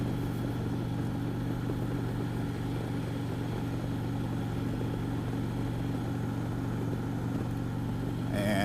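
Motorcycle cruising on a highway, a constant droning engine and wind roar holding steady throughout at close range.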